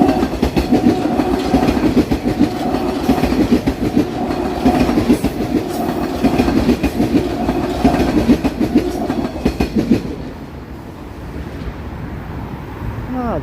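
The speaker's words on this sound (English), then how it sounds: "Now if a train comes by here, we'll get a really good look." A train passes on rail tracks in Toronto, a loud, close, continuous rumble with steady clickety-clack from the wheels that runs for about ten seconds before it drops away to a quieter hiss of wind and traffic.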